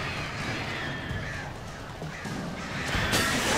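Crows caw in the video game Alan Wake, harsh calls half-buried in a dense, hissing wash of game ambience and wind-like noise.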